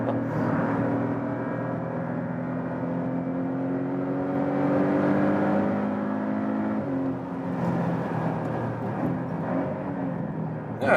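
Porsche 718 Boxster GTS four-cylinder engine revving hard under steady load with an automatic gearbox, a continuous loud drone that rises in pitch and drops at around seven seconds as the transmission upshifts.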